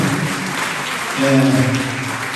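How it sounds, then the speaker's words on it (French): An audience at a mayor's free Christmas concert claps in loud, continuous applause that swells slightly toward the end, with voices mixed in. "Je vous demande de l'applaudir"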